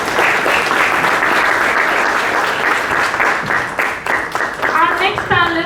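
A conference audience at a supply chain and operations conclave claps in a loud, sustained round of applause, and a speaker's voice comes in over the fading clapping near the end.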